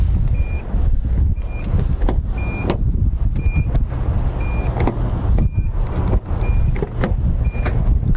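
The electronic power hatchback of a 2009 Nissan Murano runs with a steady motor hum, joined by a string of short, regularly spaced electronic beeps, all close and fairly loud.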